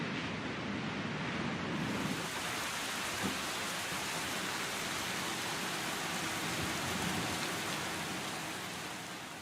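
Steady rain in the X-Plane 12 flight simulator, a dense, even hiss of drops pattering on a surface that holds constant throughout, with no voices.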